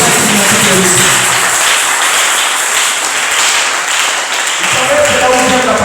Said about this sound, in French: je voudrais qu'on acclame d'abord Jésus